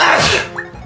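One sharp, close sneeze bursts out and fades quickly, recorded during a relaxed Fire Emblem: Sacred Stones gaming session.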